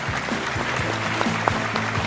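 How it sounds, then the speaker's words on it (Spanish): A late-night studio audience claps to welcome a guest onto a theatre-themed talk show set, a dense, even patter of hands with a low rhythmic music beat thumping underneath. "damos entrada con un muy fuerte aplauso a Fedria en el plató"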